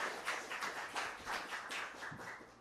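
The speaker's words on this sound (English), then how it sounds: "round of applause for the Minister" An audience gives a round of applause for the Minister at a wildlife and One Health educational lab inauguration, steady moderate clapping that stays fairly quiet and even throughout.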